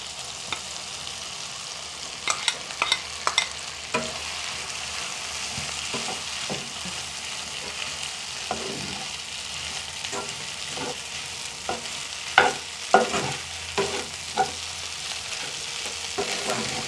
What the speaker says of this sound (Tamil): நன்றாக ரைஸை ஆட் பண்ணிவிட்டு நன்றாக கலக்கி விட வேணும்